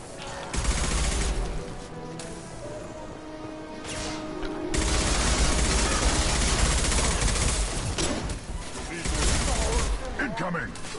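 Mass Effect 2 combat gunfire sounds as loud rapid bursts and sustained automatic fire with impacts, in several intense stretches separated by brief lulls, with voices talking in the mix.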